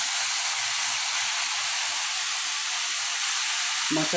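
Cauliflower and potato fry with spices in a hot pan, giving a steady, loud sizzling hiss without pause. A brief voice cuts in at the very end.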